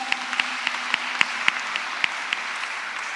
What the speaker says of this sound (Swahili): Tupigie kila kikundi ambayo imepresent makofi.